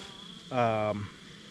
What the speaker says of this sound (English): We've got a cluster of bees up at the top.